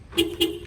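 A Clifford alarm on a 2014 Scion tC gives two short, evenly spaced chirps close by as it disarms, with nothing else heard.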